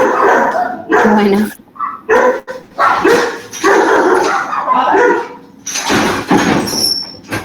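Several pet dogs bark inside a house during a Spanish-language online talk: repeated loud, close barks and yips with some whimpering, continuing in bursts, while someone speaks briefly.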